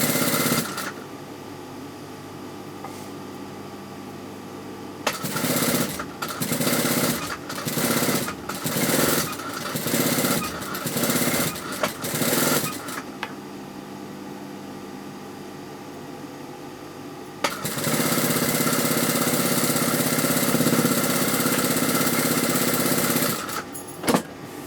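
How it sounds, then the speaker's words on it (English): An overlocker sews a fabric bias strip for piping around a neckline, running in a string of short rapid mechanical bursts with brief pauses, then one long steady run, close by and with no talking. "We're just going to overlock it."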